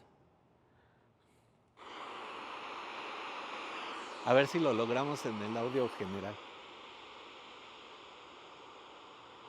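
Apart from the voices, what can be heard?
recorded sea waves played from an iPhone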